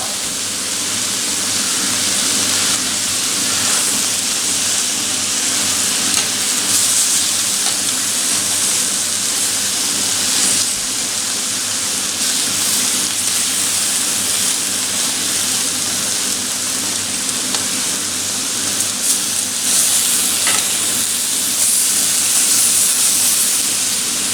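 Kangaroo kebabs sizzle steadily in a very hot cast iron pan, a loud, continuous hiss and crackle of searing meat throughout with no pauses.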